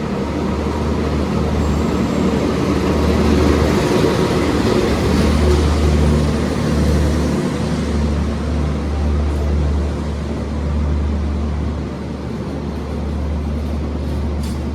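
The Argo Bromo Anggrek passenger train rolls into Semarang Tawang station with a heavy, steady low rumble and broad mechanical noise that stays loud throughout, no voices on top.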